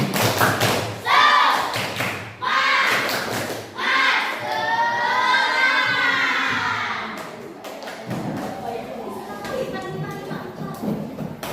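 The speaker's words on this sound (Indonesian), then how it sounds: "kita tepuk semangat terlebih dahulu. Tepuk semangat." A small class group in an Indonesian teaching practice session does a quick rhythmic spirit clap, sharp thuds and taps bursting out between lively voices and cheering.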